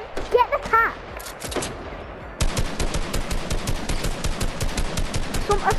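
Gunfire in a sniper video game: a few scattered shots with brief voices at first, then a steady, rapid string of loud automatic shots running to the end.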